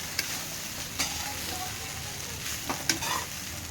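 Egg fried rice sizzles in a pan while being stirred, a moderate frying hiss broken by several sharp scraping strokes of the spatula, close up and without talk.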